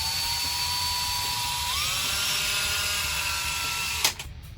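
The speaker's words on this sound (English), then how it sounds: "to make this wire a little bit stronger, I'm just going to use my drill" A power drill twisting wire for a car seat spring repair whines continuously at a steady high pitch, rising slightly midway, then stops abruptly with a brief clatter.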